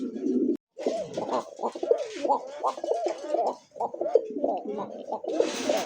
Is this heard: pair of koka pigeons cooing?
yes